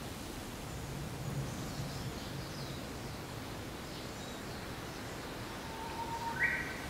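A Japanese bush warbler calls faintly from a distance near the temple gate of Myohonji in Kamakura on a May evening, a brief whistled note late on over soft rustling outdoor ambience.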